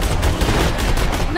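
Rapid gunfire from the shooter Borderlands 2, loud and close, with a burst of repeated shots in a steady rhythm across the whole moment.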